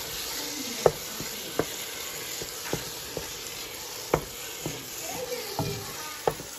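Onions and tomato stirred in a frying pot, with steady sizzling and a handful of sharp spoon scrapes and taps spaced irregularly, fairly close and alone with no talk.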